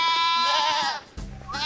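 A goat bleats close by in one long, wavering, nasal cry that breaks off abruptly. A second bleat begins shortly after.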